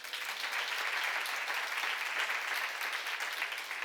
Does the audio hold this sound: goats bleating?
no